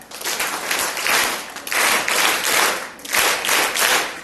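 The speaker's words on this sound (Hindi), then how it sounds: "बहुत बढ़िया, ताली बजाएं।" Rhythmic, enthusiastic clapping from a school audience at a girls' school assembly, dense and loud, rising and falling in several bursts with no talking over it.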